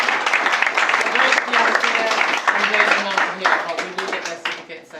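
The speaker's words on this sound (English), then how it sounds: "Round of applause, please," Lively applause and clapping from an audience at an adult learner awards ceremony, honouring a winner named Yasir, with a few voices mixed in as the clapping tapers off.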